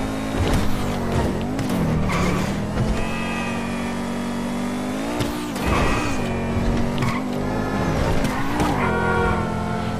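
In GTA V, a Pegassi Osiris supercar's engine whines and revs through repeated gear changes, with tires screeching and skidding at intervals over a continuous game soundtrack.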